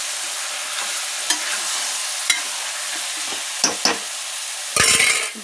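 Vegetables cook in oil in a pot for veg biryani, a soft steady sizzle with a few scattered clinks and a louder burst of stirring near the end, close by and without talk.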